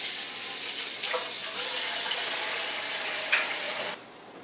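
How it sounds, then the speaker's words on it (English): Hands washed under a running kitchen tap, a steady close hiss of flowing water with brief splashy shifts, cutting off near the end. "I'm gonna wash my hands."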